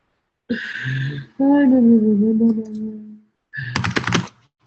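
A brief flurry of clicking keystrokes on a computer keyboard comes up close, following a stretch of a voice talking.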